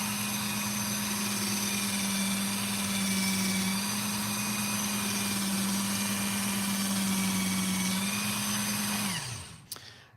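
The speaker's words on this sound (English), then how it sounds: "you can see this little machine. I think it's a great little sharpener for most people" A small electric knife sharpener runs with a steady, loud motor hum and high whine for about nine seconds, then spins down and stops at the end, heard close and alone.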